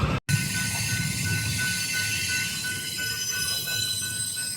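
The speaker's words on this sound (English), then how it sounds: "Hope I don't have to cross this railroad and wait for this train." Train rolling along a railroad near a cycling route, a steady close rumble of rail cars with high metallic wheel tones running throughout, briefly cut by a gap near the start.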